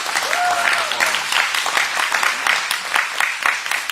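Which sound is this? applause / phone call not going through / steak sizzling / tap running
applause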